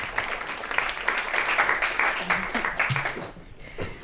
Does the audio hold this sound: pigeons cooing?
no